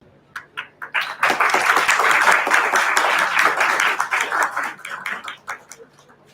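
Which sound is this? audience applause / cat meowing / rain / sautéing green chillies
audience applause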